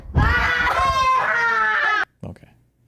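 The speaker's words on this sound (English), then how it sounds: "Did she just scream a lot on stream" A woman screams loudly on a livestream, a sustained high shrill cry lasting about two seconds before cutting off sharply, followed by a brief fainter vocal burst.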